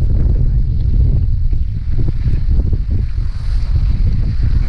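Wind blows hard across a riverbank on the Aurá River at an old ferry port during beach-rod fishing, producing a loud, continuous low rumble of gusts buffeting the microphone, with no talking.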